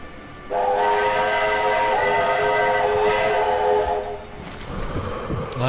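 A steam train whistle in the Sniper Elite V2 video game sounds one long, loud, sustained tone for several seconds, then cuts off, leaving fainter hissing and background noise.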